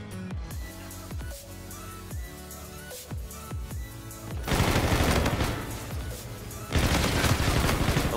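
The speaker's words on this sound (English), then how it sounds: "I lived through a gunfire" Video game gunfire from Call of Duty: Infinite Warfare: first a string of separate, evenly spaced loud shots, then dense sustained bursts of rapid fire, with no talking.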